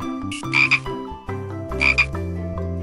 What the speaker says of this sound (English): The frog lives on the lake.